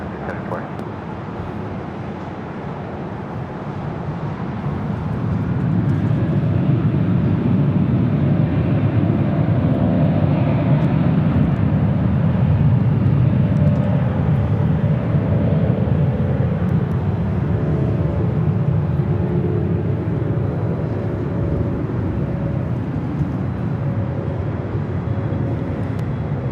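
A KLM airliner at Los Angeles International Airport rumbles from a distance, its low engine drone building after a few seconds and holding steady, with faint voices underneath.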